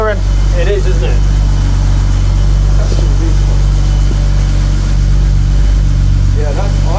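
A barn-find 1980s BMW six-cylinder tuner car idles smoothly and loudly up close, a steady low rumble running throughout while people talk excitedly over it.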